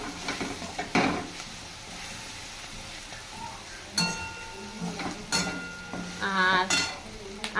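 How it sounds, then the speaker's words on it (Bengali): Chopped onions fry gently with salt and turmeric in a pan for a prawn and taro-leaf dish, a soft steady sizzle broken by a few sharp stirring scrapes and metallic clinks of the spoon against the pan. "পেঁয়াজটা একটু হালকা ভাজা হোক।"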